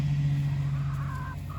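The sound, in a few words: chickens clucking while running for treats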